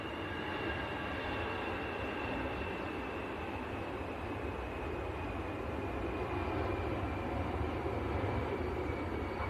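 An easyJet airliner departing Manchester Airport for Malaga produces a steady, loud, broadband engine roar with a faint high whine running through it, sustained evenly for the whole stretch with no voices.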